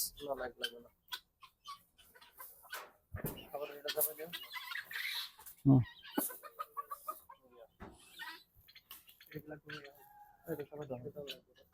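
Chickens cluck in short bursts around a backyard flock being fed mealworms, the calls rising and falling between stretches of a person talking nearby.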